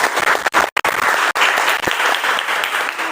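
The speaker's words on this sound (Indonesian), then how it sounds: "tepuk tangan untuk kalian" A classroom of students bursts into dense, close applause that lasts about three seconds, with many hands clapping together at once.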